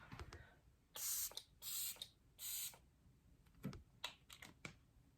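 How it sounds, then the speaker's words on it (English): Three short, hissing sprays of a fine mister, close and evenly spaced, surrounded by light clicks and taps. "I'm gonna go ahead, shake this up, spray it on."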